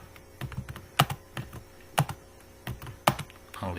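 Irregular keystrokes on a computer keyboard while C++ code is written, a close series of crisp taps and a few louder key strikes in uneven bursts, with no talking.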